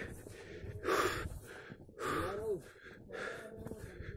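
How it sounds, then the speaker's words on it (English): Heavy, labored breathing at high altitude near the summit of Mount Kedarkantha comes in a few long gasping bursts, close to the mic, with faint wind and movement between breaths. "it's very panting and at this altitude a severe breathing problem"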